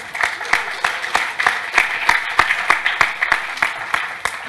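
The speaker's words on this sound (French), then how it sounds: "je crois qu'on peut l'applaudir à nouveau." A small audience claps for a newly appointed deputy for culture at an art salon prize ceremony, a thin patter of sparse, distinct hand claps in an uneven rhythm, fairly close and moderate in level.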